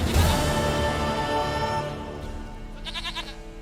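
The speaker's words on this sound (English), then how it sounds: "Goat of mine, dearest," A goat in The Witcher 3 video game gives a single drawn-out, wavering bleat, near and clear, fading out with a brief shimmering tail.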